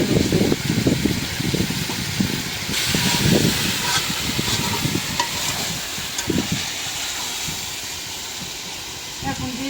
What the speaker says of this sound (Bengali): ভাজার সময় অনেকটা তেল উঠছে